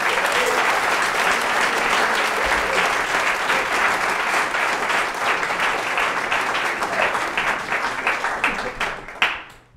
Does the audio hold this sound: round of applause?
yes